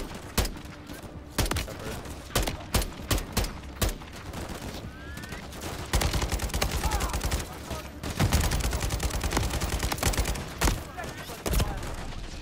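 Gunfire in a Call of Duty Modern Warfare 3 battle on a frozen tundra, sharp separate shots early building into sustained automatic bursts, loud and close, with faint voices at times.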